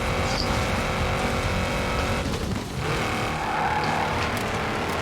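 Continuous loud engine roar from cars racing and cornering in the video game Forza Horizon 4, with faint tire squeal as the cars turn, steady throughout.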